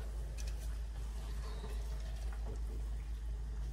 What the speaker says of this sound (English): I'm just going to pour it in